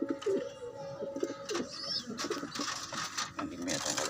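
Breeder pigeons, blue bar and black check birds, coo softly in a loft with several low, repeated calls over a steady rustling background.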